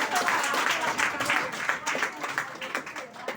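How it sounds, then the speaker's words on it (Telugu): Audience applause at a Christmas celebration for a child who took second place, a short burst of clapping with voices mixed in. "మా చప్పట్లు కొట్టరా"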